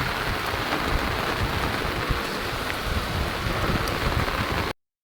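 A torrential rainstorm pours down in a constant, loud roar of drops hitting surfaces, with a faint low rumble underneath, before cutting off abruptly at the end.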